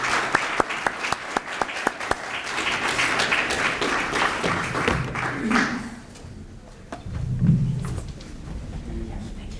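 Audience at a Tesla Science Foundation conference in New York applauding, with a dense burst of clapping that is loud at first and then thins out and fades over several seconds, with some murmuring and voices toward the end.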